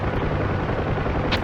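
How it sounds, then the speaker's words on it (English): Explosives-laden vehicles blow up in the DCS Huey helicopter combat game, a dense rumbling blast that fills the whole moment with a loud, sustained roar and a short sharp crack near the end. "Wow, that's a big bang. It seems they are fully loaded with explosives."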